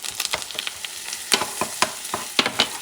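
Chorizo and bean mixture with chopped serrano pepper stirred in a pan with no added oil, a spoon scraping in quick irregular strokes over a steady close sizzle.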